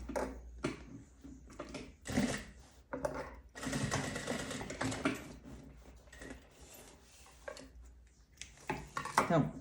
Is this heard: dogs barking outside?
no